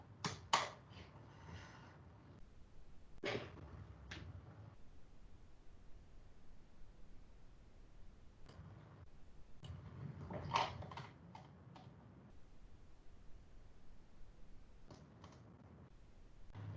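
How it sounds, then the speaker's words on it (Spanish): Computer keyboard typing in a quiet room, coming in short scattered bursts of clicky keystrokes separated by pauses, close and fairly soft, with no speech over it. "Estoy tecleando cualquier cosa"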